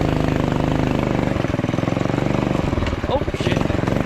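An off-road mini quad's small engine idles close by with a steady, rapid putter that wavers slightly in pitch, loud and continuous for a few seconds.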